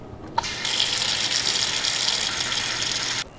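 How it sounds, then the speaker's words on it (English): Tap water gushes into a pot in a home kitchen, a brief click at the start, then a steady loud hissing stream that runs for about three seconds and cuts off sharply. "you're gonna fill it with water"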